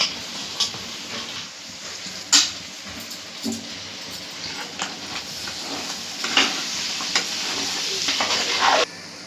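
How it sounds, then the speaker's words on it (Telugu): Spicy chicken fry with green chillies and coriander is stirred in a pan, and a steady sizzle runs under repeated scraping and clattering spoon strokes. "బాగా మిక్స్ చేసుకొని ఇంకా స్టవ్ ఆఫ్ చేసుకోవాలి"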